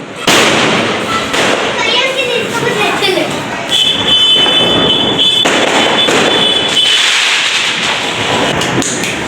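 Diwali firecrackers bursting loudly and continuously nearby at a home celebration, dense crackling blasts with a shrill whistling tone partway through, while people talk over the noise.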